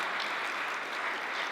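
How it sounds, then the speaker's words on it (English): Audience applause for speakers at the close of a progressive politics panel event, a steady dense wash of many hands clapping at moderate level throughout, with no talk over it. "Let's give them a huge round of applause."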